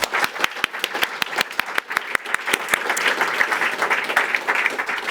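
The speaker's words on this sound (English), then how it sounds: "Please join me in applauding Uwe" An audience applauds Uwe at the Climathon Bratislava 2025 awards, with dense, steady clapping from a crowd running throughout, a few sharper individual claps standing out near the front.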